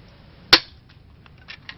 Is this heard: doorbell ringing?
no